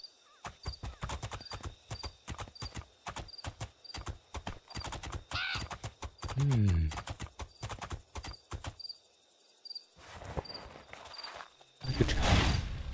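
A horse galloping in the video game Two Worlds 2, rapid rhythmic hoofbeats with a neigh partway through, over a background of chirping crickets.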